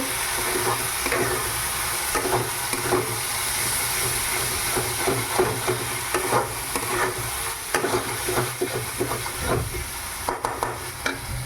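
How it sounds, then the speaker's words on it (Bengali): Schezwan sauce frying in a pan for Schezwan chicken sizzles continuously and close by, with a rhythmic scrape and clatter of stirring throughout. "Schezwan sauce. এবার ভালো করে নাড়িয়ে নেব।"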